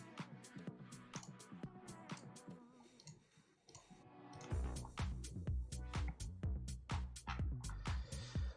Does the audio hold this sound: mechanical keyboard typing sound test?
yes